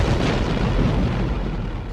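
A V-1 flying bomb's pulse jet engine drones in a loud, continuous, rough rumble, steady throughout with no talking.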